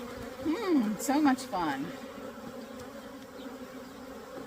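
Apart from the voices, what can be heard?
honey bees buzzing at a hive being split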